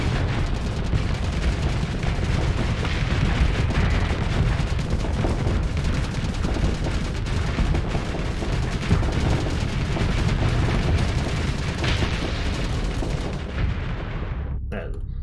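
Many spaceship guns in Starsector pound away at once against a shield, a dense, continuous barrage of booming and crackling impacts that stays loud throughout before cutting off abruptly near the end.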